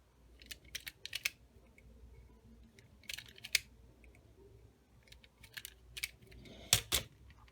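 Insulation is stripped off a single-conductor electrical wire close by, with a series of sharp scraping clicks and snips in irregular bursts over a quiet, low background hum.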